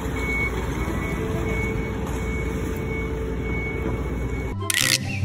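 Reversing beeps from a toy forklift truck, a steady repeating electronic tone that carries on under a continuous hum for several seconds before a short click and rustle near the end.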